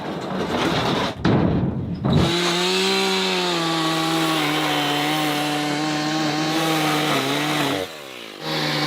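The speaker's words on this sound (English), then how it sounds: "the chainsaws are just chomping it up like they're supposed to" A chainsaw buzzes loudly and steadily nearby as it cuts through a cabin's wooden deck beams under heavy snow, its engine pitch shifting under load, after a few brief revs at the start.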